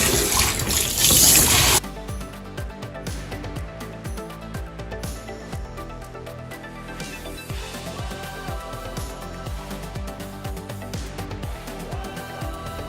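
Water gushes from a tap into a bath filled with water, loud at first, then a steady gurgling, splashing flow that continues throughout, close by.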